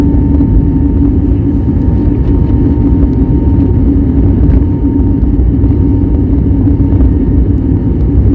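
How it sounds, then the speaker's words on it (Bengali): Loud, constant roar of an Air India Express airliner's engines building during a takeoff roll, a deep rumble with a steady whine running through it. "এইবারে ইঞ্জিনের আওয়াজ তোমরা টের পাবে ওই যে টের পাচ্ছ এইবারে প্লেন রান করা শুরু করল"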